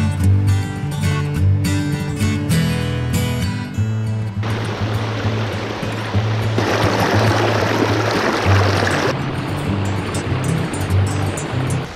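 Fast water on the Bow River rushes steadily as a broad, loud wash of noise, with background music playing underneath throughout.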